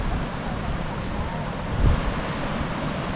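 Surf washes onto a beach at Tortuga Bay in the Galápagos in a continuous roar mixed with wind buffeting the microphone, with one heavier wave swell near the middle.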